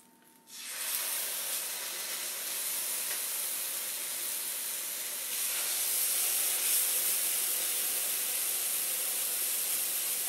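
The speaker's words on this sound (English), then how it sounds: "we want that sizzle, sizzle." A steak sizzles on a hot burner ring, a loud steady hiss that starts abruptly and holds for about ten seconds, swelling slightly midway, with no talk over it.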